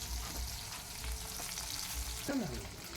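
Dried fish sizzles and spits steadily in a hot pan of oil, a constant close frying hiss with a brief metallic scrape or clatter near the end.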